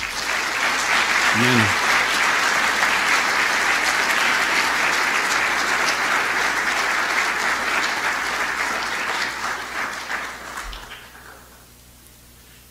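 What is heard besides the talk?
audience applause in church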